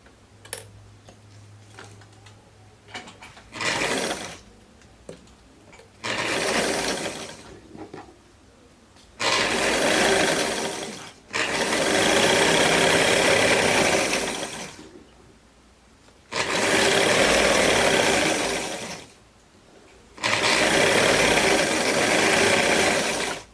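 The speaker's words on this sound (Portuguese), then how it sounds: "então eu costuro até a linha da cintura" A sewing machine stitches a romper seam up to the waistline in several loud bursts of rapid, buzzing stitching, separated by short quiet pauses as the fabric is repositioned, with no talking.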